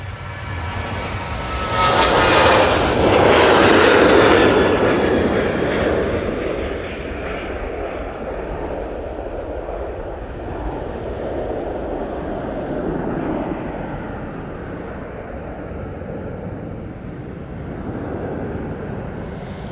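An Airbus A321neo airliner at Manchester Airport, its engine roar swelling loudly past in the first few seconds and then settling into a softer, steady rumble that lingers to the end, with no talking.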